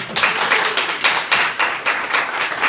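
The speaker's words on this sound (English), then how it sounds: "I think we should give Reverend Jay a round of applause for excellent ethics in ministry." Scattered clapping from a church congregation honoring a reverend, a modest round of hand claps in uneven bursts at close range, with no talking over it.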